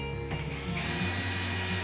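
Power drill running at low speed to drive screws into IKEA LACK shelves, a steady motor whine that shifts pitch partway through as the bit engages, close and continuous.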